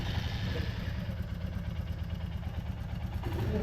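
A used Royal Enfield motorcycle with about 1,700 km on it idles at a second-hand bike dealer in Barishal. A steady, low, thumping engine rumble holds evenly throughout, and no one speaks.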